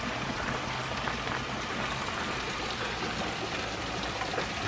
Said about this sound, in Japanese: 滝も出てきている。